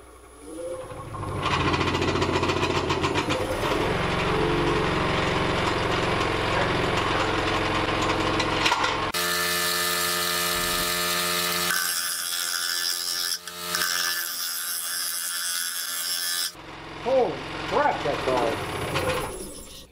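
A wood lathe turns a large bowl blank of fresh-cut wood, its motor giving a steady humming drone, then a harsher, louder grinding stretch in the middle before easing off.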